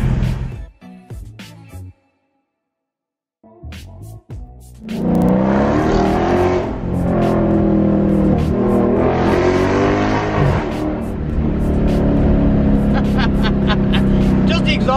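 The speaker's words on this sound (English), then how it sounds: "The exhaust alone makes this car worth it." Dodge Charger Scat Pack with a Hemi V8 exhaust, loud close revving that surges in repeated pulls after a brief silence, with talk at the start.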